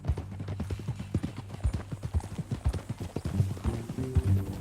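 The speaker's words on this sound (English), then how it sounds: "That a new horse?" Steady clip-clop of horse hooves at a walking pace in the video game Red Dead Redemption 2, close and continuous, with a low hum underneath.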